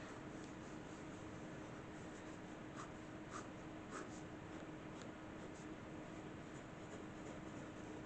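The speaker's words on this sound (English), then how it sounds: "I'm just writing messy here." Pen scratching across paper, a soft continuous scribble close by and faint against a steady background hiss, with small light strokes now and then.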